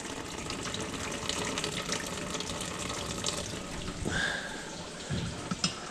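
Engine fluid drains steadily from a Toyota Hilux engine during a teardown, a continuous trickling, splashing pour like running water, with a brief louder splatter near the end and no talk.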